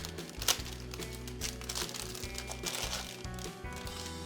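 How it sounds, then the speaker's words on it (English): A small 60% mini-membrane gaming keyboard, the Roccat Magma Mini, is pulled from its plastic bag with soft, continuous crinkling and rustling close to the microphone over a low background hum. "Let's take it out of its plastic."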